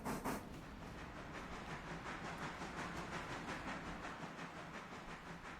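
A steam shunter locomotive in the railroad game Railroader chuffs steadily, with a rapid, regular rhythm of exhaust beats over a continuous hiss. It stays fairly loud and close throughout, and no one talks.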